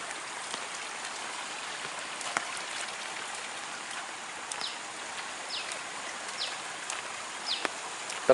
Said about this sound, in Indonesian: Terdengar suara sungai dengan air yang deras.